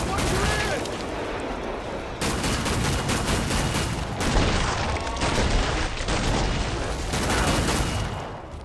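Sharpshooter weapons fire in Killing Floor 2 on the Burning Paris map, with loud, dense bursts of gunfire and booms almost continuously throughout, under chaotic in-game noise.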